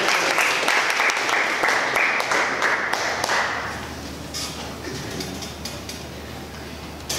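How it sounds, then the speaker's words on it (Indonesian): An audience applauds at a lecture wrap-up, sustained dense clapping that is loud at first, then thins and fades into scattered claps. "Sekali lagi tepuk tangan untuk kita semua"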